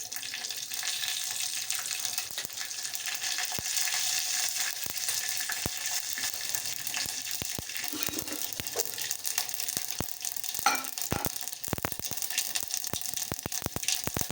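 Mustard seeds and cumin crackle in hot oil as a tempering for Gujarati dal dhokli, a steady close hiss scattered with sharp pops and spits that runs without a break and with no talking.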